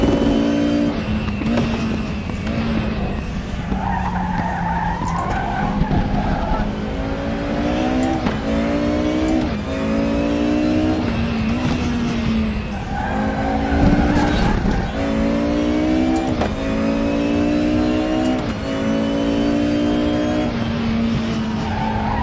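DTM 92 race car in the Raceroom racing sim, its engine droning loud and steady throughout, pitch climbing repeatedly through short gears with shift drops, tyres briefly squealing at moments; no talking.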